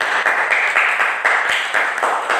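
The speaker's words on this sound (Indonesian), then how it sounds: "Tepuk tangan buat Alvin" Applause for a student named Alvin in a civics classroom: a short burst of claps from a small group of classmates, steady and fairly close, lasting a couple of seconds.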